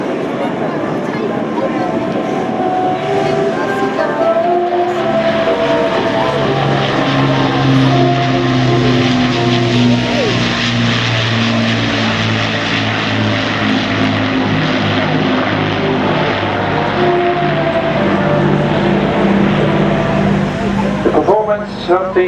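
An Avro Lancaster bomber's propeller engines drone loudly overhead at an air show, a sustained throbbing roar that swells and holds throughout, with a commentator talking over it.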